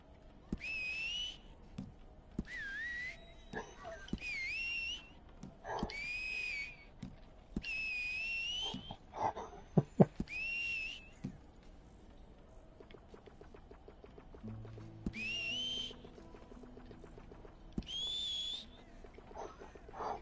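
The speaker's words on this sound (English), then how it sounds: "Dog whistle." Repeated two-tone dog whistles in the western game Red Dead Online, eight short rising calls spaced a few seconds apart over quiet ambient sounds, with occasional clicks and thuds between them.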